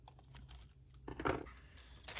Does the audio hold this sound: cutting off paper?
yes